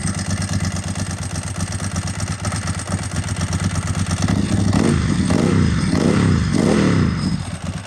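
A Ducati 748 motorcycle engine runs at high idle with a steady, close, throbbing note, then swells louder with uneven surges partway through.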